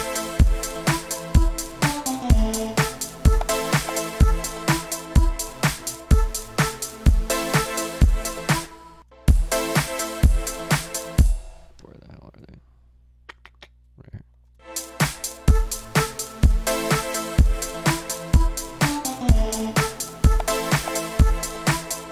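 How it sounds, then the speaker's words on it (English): House music track built in FL Studio with a synth pad layer under punchy kicks and plucked chords, looping steadily before a short near-silent break and then coming back in full. "after that, I threw the pads in"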